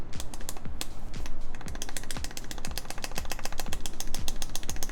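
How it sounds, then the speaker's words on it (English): Rapid, close, repeated clicking and clacking from a Wooting 60HE keyboard as a keycap is pressed over and over, a dense rattling rhythm with sharp transients. "it's just the sound of the keycap"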